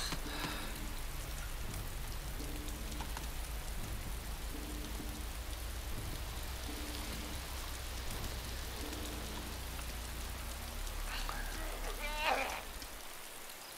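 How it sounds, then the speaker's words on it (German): Steady, dense rain falls throughout in the survival game DayZ (Epoch mod, Napf map). It forms a continuous hiss, with low repeating tonal hums underneath and a brief brighter chirp near the end. "Und das regnet ein Scheißwetter heute wieder"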